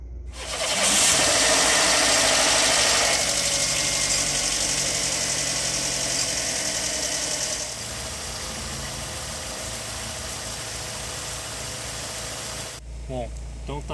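A Fiat Fire Evo 1.4 engine at working temperature after an oil sump and strainer cleaning, running steadily with a loud even drone that drops in level partway through, close up while someone talks over it.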